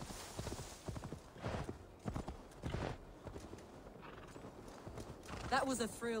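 Horse hooves clip-clop in Assassin's Creed Valhalla at a steady walking rhythm, with faint voices underneath and a short horse whinny near the end.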